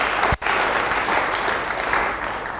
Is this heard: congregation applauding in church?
yes